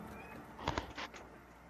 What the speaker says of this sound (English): Somebody's meowing at my door for some reason.